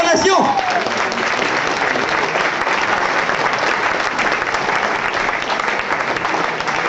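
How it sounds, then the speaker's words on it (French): An audience at a live stage show in a village hall greeting a performer with sustained, loud applause and cheering that continues unbroken throughout, a short high whistle standing out near the start. "Sous vos applaudissements et vos acclamations."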